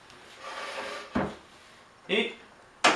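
Wooden drawer slides in a woodworking workshop, pulled out in three short, sharp sliding clunks spaced about a second apart, close and clear over quiet room tone.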